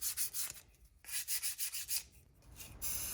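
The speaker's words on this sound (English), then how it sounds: "The car is primed, and I'm going to sand before painting. I'm working my way up from 200 to 400 grit" Rhythmic sandpaper strokes on a primed pinewood derby car, moving from 200 to 400 grit, in close, steady back-and-forth bursts with brief pauses between passes.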